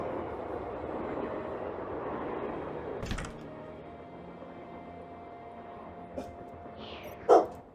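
A pet dog barks sharply once, then gives a few fainter yips and a final loud bark, over the quiet hum of background sound from a Nancy Drew video game.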